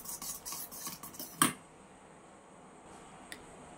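A spoon scrapes and clinks rapidly around a bowl while mixing full cream for mango ice cream, a busy close rasping rhythm that stops abruptly partway, leaving quiet room tone and one faint tick.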